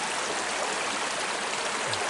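A mountain stream flowing at an old ford crossing, with a steady, dense rushing wash of water heard close up and alone, with no talking.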